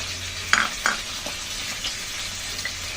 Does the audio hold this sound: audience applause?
no